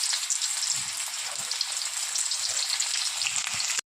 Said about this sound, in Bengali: আগে পেঁয়াজটা একটু ভেজে নেব।